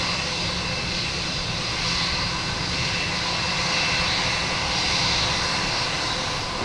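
A Spirit airliner's jet engines rumble steadily at Boston Logan Airport, a loud, continuous roar that holds without a break and has no talk over it.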